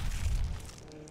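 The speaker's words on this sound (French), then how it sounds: "des sympathiques petites explosions" Small explosions go off in Dead Island 2 as a kicked zombie is hit, a dense low booming rumble that stays loud for about a second and then eases slightly.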